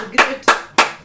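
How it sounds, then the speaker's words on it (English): Four slow, sharp hand claps by a single person, evenly spaced about a third of a second apart, loud and close with no talking. "Give a round of applause."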